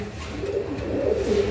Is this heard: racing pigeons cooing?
yes